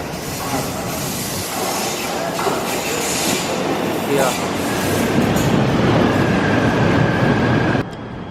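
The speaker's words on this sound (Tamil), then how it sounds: "ட்ரெயின் வந்துடுச்சு, செம்ம டைமிங் வந்தோடனே வந்துச்சு." A metro train pulls into a station in Kuala Lumpur, a steady, loud rumble of rail noise that swells toward the end and then cuts off, with someone talking over it.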